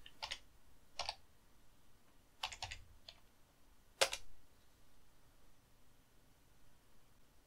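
Typing on a computer keyboard during video editing work: a handful of sparse, faint key clicks spread out with pauses, close but quiet against a low hiss.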